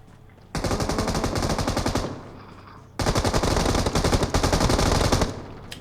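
Automatic machine gun fire in a video game rings out in two long, loud sustained bursts, close and dense, separated by a short pause.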